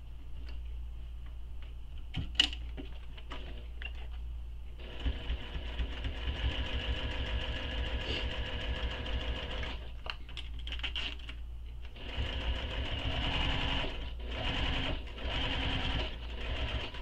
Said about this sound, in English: Now we're going to sew around this zipper opening.